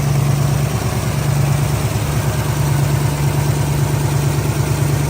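A 1971 Ford Mustang coupe with a 302 V8, headers and an automatic transmission idles steadily, a loud, even, low rumble with a rapid lumpy pulse and no voices.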